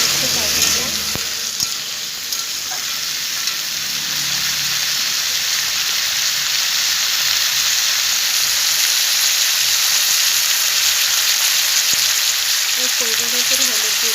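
Bottle gourd curry with lentil fritters sautés in a pan with a loud, steady sizzle throughout and occasional soft scrapes and knocks from stirring, heard up close with no speech.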